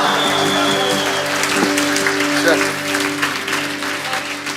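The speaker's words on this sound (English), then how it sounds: "No, you're clapping" Congregation at a church resurrection service clapping under a steady musical drone and voices, the claps mixed into the sustained sound rather than standing out.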